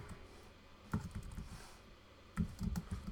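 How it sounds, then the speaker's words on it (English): Typing on a computer keyboard, quiet and close, with two short bursts of key clicks separated by a pause and no talking. "type bootstrap 4, and I'm going to hit"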